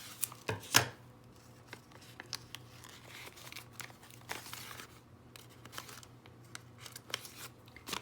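Scissors cut open a folded form, with a couple of sharp, close snips at the start, then quieter scattered cuts and soft paper crinkles.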